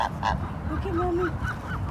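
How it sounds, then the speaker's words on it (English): Canada geese by a river under a city bridge give a few short, nasal honks at moderate distance. The calls sit over outdoor background noise. "those are Canadian geese"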